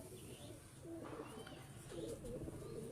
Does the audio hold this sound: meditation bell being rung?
no